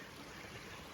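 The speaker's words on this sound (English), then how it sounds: "this is a little creek" A small creek flows steadily, a soft continuous rush of water, outdoors and fairly quiet, with no voices.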